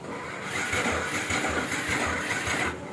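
A Honda motorcycle with a dried-out, weak battery cranks on its electric starter, a steady close whirring and churning that runs about two seconds before cutting off, with no clear catch to idle.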